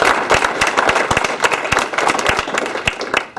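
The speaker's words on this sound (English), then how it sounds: "So a little round of applause" Applause at a basketball officials' banquet fills the room, a dense, loud round of many hands clapping continuously and close, with no talk over it.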